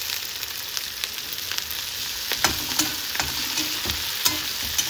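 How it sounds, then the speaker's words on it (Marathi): Poha cutlet mixture with green peas, chillies and coriander being stirred, giving a steady scraping, sizzling texture with a few sharper clinks of the spoon, close and even throughout with no voices. "हे सगळं छान ढवळून घेणार आपण"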